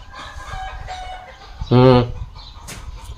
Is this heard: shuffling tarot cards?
no